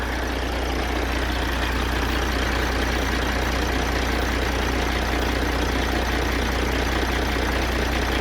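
A Peterbilt cabover truck engine idles steadily and loudly up close, a deep continuous rumble with a rapid even knock, shortly after its first start.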